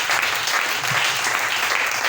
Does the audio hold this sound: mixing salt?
no